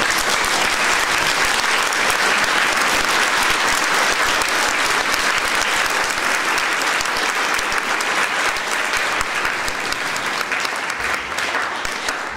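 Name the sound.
audience applauding band students who lettered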